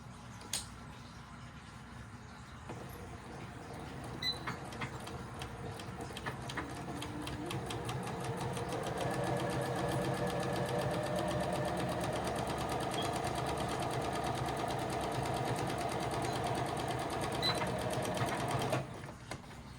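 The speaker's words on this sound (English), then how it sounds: "Here's our inner liner. We'll go ahead and sew that together." A sewing machine stitches an inner liner in one continuous run of rapid, even mechanical clatter, close and steady for most of the stretch before stopping near the end.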